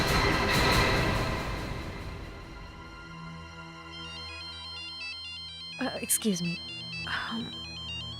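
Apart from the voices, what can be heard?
mobile phone ringtone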